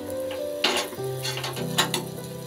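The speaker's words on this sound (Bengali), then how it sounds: "পরোটাটা আমি অল্প তেলেই ভাজবো।" Carrot paratha frying in a thin film of oil in a frying pan, a soft close sizzle with a couple of sharper clinks of a utensil against the pan.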